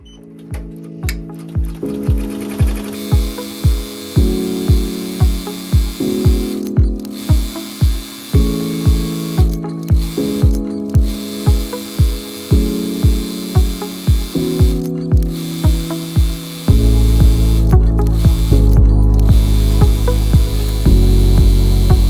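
A BAI Mirror 15 embroidery machine stitches an applique on a crewneck, its needle mechanism chattering in a fast, steady rhythm. The run is loud and close, broken by brief pauses, and the pitch and intensity shift near the end.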